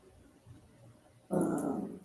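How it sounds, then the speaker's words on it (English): A dog growls and whimpers indoors, a quiet low rumble at first, then a sudden louder burst of growling toward the end, with no voices. "Why are you growling?"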